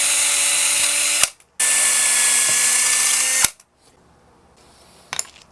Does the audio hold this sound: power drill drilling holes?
yes